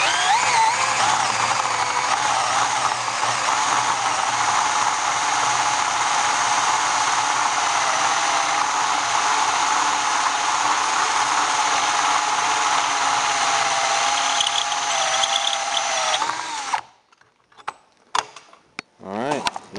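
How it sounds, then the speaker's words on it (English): Drill fitted with a 3/4 inch hole bit cutting holes for ALCAD LP200 battery interconnects, a loud, steady whirring drone that runs for most of the clip and then stops, leaving faint clicks and handling noises. "And here we go with a 3/4 inch hole bit."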